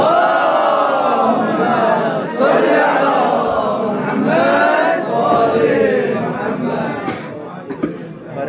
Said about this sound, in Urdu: نعرے صلوات کی سہارا لے بر محمد صلوات علی محمد وآل محمد